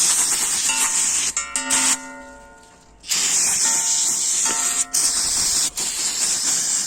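Loud, steady hiss of an aerosol cleaner spray held close, cleaning a car's manual shifter parts, broken by a few brief pauses and one longer gap before spraying resumes.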